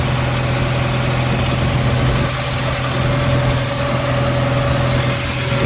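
Restored 1981 Jeep Scrambler with a 4.0L engine idling steadily, a loud, even mid-to-low hum with a constant tone and no revving, heard close and alone.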